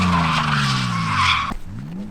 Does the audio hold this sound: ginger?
no